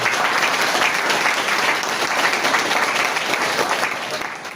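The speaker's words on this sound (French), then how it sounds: "je vous demande, toute la salle, avec des applaudissements," The whole hall applauds in tribute at a ceremony installing a Pastef coordinator in Fandène, producing steady, dense clapping from a large crowd that holds strong throughout and fades slightly at the end.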